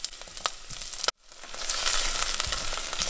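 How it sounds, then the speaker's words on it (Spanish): Onion and garlic sizzling in hot oil in a saucepan on a stove, a steady close crackling fry that cuts out briefly and then resumes louder, with no talking. "En una cacerola calentamos un poco de aceite y empezamos por freír la cebolla. Agregamos los ajos."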